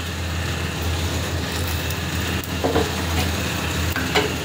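Whole spices (panch phoron, cumin, dried red chillies, bay leaves, green cardamom, cloves and cinnamon) sizzle in hot oil with a steady, close crackle, broken by a few small clicks and stirring knocks.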